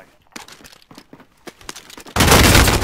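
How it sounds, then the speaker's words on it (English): Loud gunfire bursts in the video game Warzone, a series of sharp shots followed by a sustained roar of heavy firing at the end, close and dominant. "that was some loud shooting"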